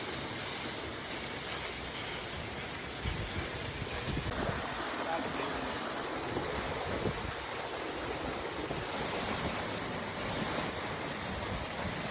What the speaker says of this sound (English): A secret waterfall from Sombrio Beach.